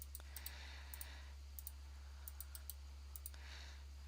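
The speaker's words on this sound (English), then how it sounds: "I'm clicking, left click, right click" Computer mouse buttons clicked at a desk while working on an exploded assembly drawing, sharp isolated clicks arriving singly and in quick pairs over a steady low hum, no talking.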